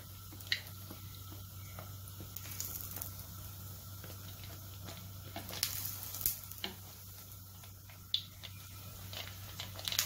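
Sesame balls fry in hot oil, a quiet, continuous sizzle with scattered pops and crackles over a low steady hum, with no talking.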